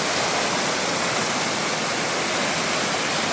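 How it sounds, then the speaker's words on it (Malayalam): At Mamalakandom, a waterfall pours white and foaming over rocks in a dense, unbroken roar, loud and close, with no voices. "നല്ല പാല് പോലെ പതഞ്ഞൊഴുകുന്ന വെള്ളം"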